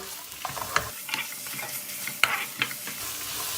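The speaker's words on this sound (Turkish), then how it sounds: "Domates salçasını şöyle iyice bir kavuralım." Tomato paste frying with onions and carrots in a pan for meatballs, a steady close sizzle broken by several sharp scraping stirs of a spoon against the pan.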